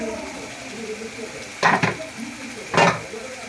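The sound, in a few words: blender rinse water poured into sizzling egg masala curry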